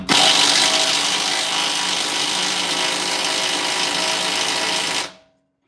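An aging Ryobi impact gun works on a truck's front axle, a loud continuous buzzing whir held close for about five seconds before cutting off abruptly into silence.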